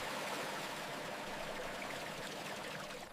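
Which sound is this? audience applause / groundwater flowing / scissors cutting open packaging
groundwater flowing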